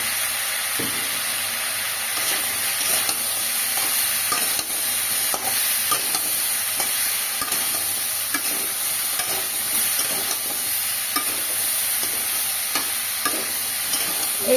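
Taro (kochu) curry with salt and turmeric fries in a pan under a constant loud sizzle and hiss, with frequent light scrapes and knocks from stirring, close and without voices.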